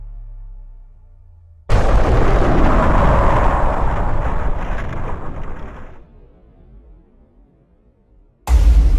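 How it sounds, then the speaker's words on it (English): A huge explosion bursts in suddenly and roars loudly for about four seconds before cutting off, followed by a low quiet rumble, then another loud blast begins abruptly at the very end. "There was an explosion,"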